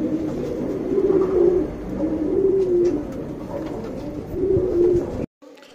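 A pair of top-class show pigeons, a female and a male, coo in low, soft repeated phrases. They are close and steady, with three rounded coo bursts over a murmuring backdrop before it cuts off.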